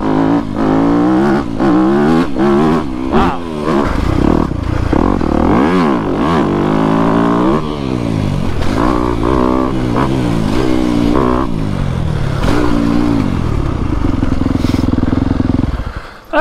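Dirt bike ridden on trails, engine revving and rising and falling in pitch continuously and close, with gear changes and throttle bursts throughout.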